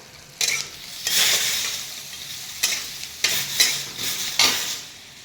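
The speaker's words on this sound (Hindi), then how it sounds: "बहुत दिन के बाद आज मैं न्यूट्रेला बना रही हूँ।" Nutrela soya chunks are stirred and fried in a pan at home. Loud spoon scrapes and stirring strokes come in bursts over a continuous oily sizzle, close up, with no speech.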